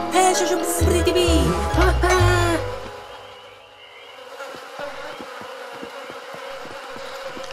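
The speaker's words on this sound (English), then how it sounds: "Hey, she's a pretty bee." A buzzing bee in the video game Lost in Play drones steadily, loud and close at first, then softer and more broken over a quiet background.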